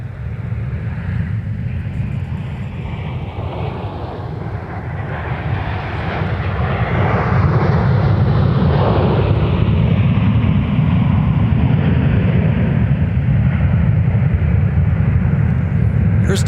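Delta Airlines jet airliner landing at Minneapolis–St. Paul airport, a loud roaring engine wash that swells and holds steady with wind buffeting, heard outdoors from nearby.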